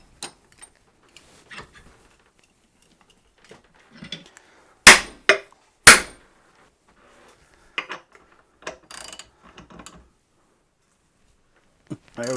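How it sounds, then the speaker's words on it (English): A tub drain is crushed with a pipe extractor between pieces of scrap wood: scattered creaks and taps, then two sharp loud cracking impacts close together, followed by lighter knocks and rattles. "So I'm going to attempt to crush this between a couple pieces of scrap wood."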